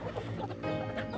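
Chickens cluck softly nearby in a village yard at feeding time, with a few low, overlapping clucks and murmurs in a short burst.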